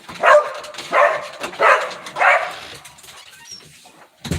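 A dog barks at a groundhog near a porch, four sharp barks in quick succession, loud and close, followed by a brief pause and another short yelp at the end.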